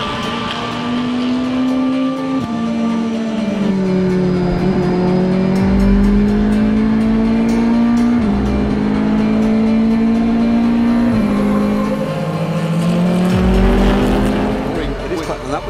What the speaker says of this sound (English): The safety car is out on track.